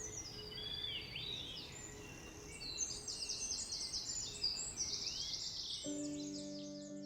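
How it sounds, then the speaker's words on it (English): Forest birds sing in quiet overlapping chirps and warbles, faint and somewhat distant, with a soft insect hum underneath and a short steady tone near the end. "Listen to the birdsong and feel with all your senses."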